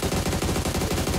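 Rapid automatic gunfire in PUBG Mobile played on an emulator, a steady fast stream of loud, evenly spaced shots.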